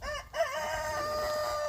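A homestead rooster crows once, a loud, close, sustained cock-a-doodle-doo with no talking.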